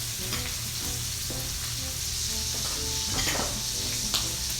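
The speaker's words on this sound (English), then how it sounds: "In this same pan, I'm going to add our sausage. And I'm going to fry it up real nice." Sausage browning in a pan already used for shrimp and grits, a steady close sizzle with repeated light stirring scrapes and clinks, soft and continuous.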